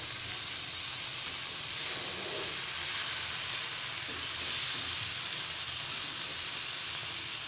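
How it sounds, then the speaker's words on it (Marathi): Bombay duck (bombil) fish fries Malvani-style in a pan while being stirred, giving a loud, continuous close-up sizzle with a steady hiss and no talking. "आता परत एकदा परतूया आपण सावकाश एकदम परतायचे"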